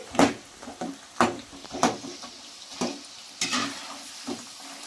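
Chana dal being stirred and roasted in a pan over a medium flame for masala dal, spatula scrapes and clinks in an uneven rhythm over a faint sizzle, close by.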